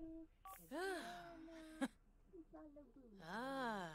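Short electronic phone dialing tones in The Sims 4, heard between and alongside bursts of animated Simlish voices chattering over a quiet background.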